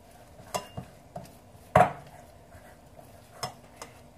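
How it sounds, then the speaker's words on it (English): A few scattered clinks and scrapes of a utensil against a bowl of keto bagel mixture, one louder knock in the middle, close by with quiet pauses between. "Alright, let's stir this up."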